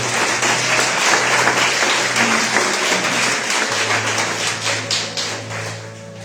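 Congregation applauding during a Spanish-language Sunday church service, a full sustained wash of clapping over a low steady hum, fading slightly near the end.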